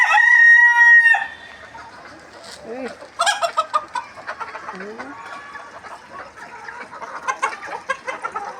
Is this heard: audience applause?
no